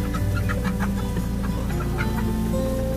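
Chickens clucking steadily inside a new chicken coop, a dense overlapping chorus of hens close and loud with no talk.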